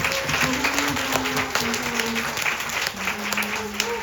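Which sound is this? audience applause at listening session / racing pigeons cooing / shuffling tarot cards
audience applause at listening session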